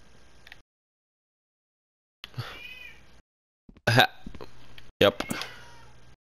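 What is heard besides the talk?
cat meowing at the door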